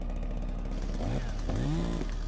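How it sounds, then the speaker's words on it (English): A chainsaw in a horror video game gives a steady buzzing drone that swells into rising and falling revs over two seconds. "No, not a chainsaw! I hate them. I hate chainsaws in horror games."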